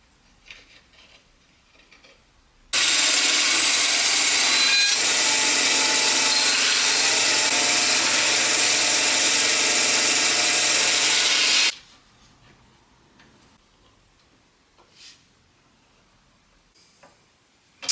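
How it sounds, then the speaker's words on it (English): A power saw cuts through a piece of oak for about nine seconds in one loud, steady, continuous roar that starts and stops abruptly, with quiet workshop handling noises before and after. "I've got a piece of oak here that I need to cut down."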